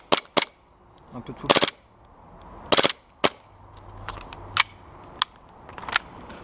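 Gas airsoft pistol dry-fired with no BBs loaded, giving a series of sharp, loud, close snapping shots at irregular intervals with short gaps between them, and a brief word spoken once.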